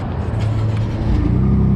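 A loud, close Ford F-150 truck engine revs up with a deep, raspy exhaust roar through an open electronic exhaust cutout, building steadily.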